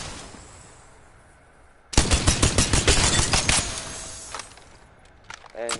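Rampage rifle in a video game firing a rapid burst after being charged with a thermite grenade, a fast stream of loud sharp shots for about two seconds, followed by a few scattered shots.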